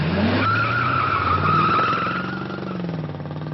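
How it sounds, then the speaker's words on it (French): A car skids with a long, loud tire squeal over a droning engine, the screech holding for a couple of seconds before fading as the engine note drops. "C'est la voiture de Brandon"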